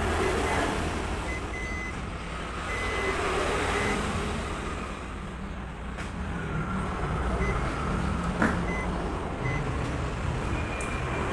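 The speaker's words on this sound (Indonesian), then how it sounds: "Saya hanya mendengarkan suara beep." Several short, faint electronic beeps from a multimeter continuity test sound at irregular intervals over a steady, noisy background rumble, during repair of a Samsung A04 phone.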